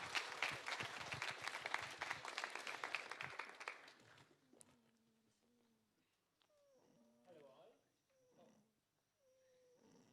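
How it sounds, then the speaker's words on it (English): An audience claps at a tech talk on free software, with dense applause for about four seconds before it fades out and quiet stage sounds and movement follow. "So a big applause for him as well."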